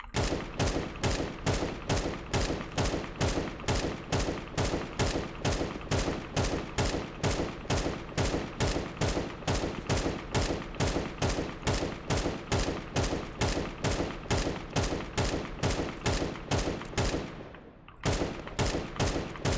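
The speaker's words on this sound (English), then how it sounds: "just shooting at this wall" Sustained rapid automatic fire aimed at a wall in Counter-Strike 2, a steady loud rhythm of shots lasting nearly the whole stretch, with one brief pause near the end before the firing resumes.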